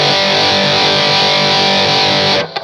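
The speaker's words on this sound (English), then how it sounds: "So that's max distortion." A guitar roars through a heavily saturated Rockman-style analog distortion pedal, a dense, buzzing sustained chord at maximum distortion, then abruptly cuts off.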